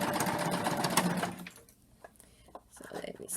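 A serger sewing a cover stitch pin tuck runs with a fast, loud, steady mechanical whir for about a second and a half, then stops, leaving quieter handling sounds and light fabric rustle.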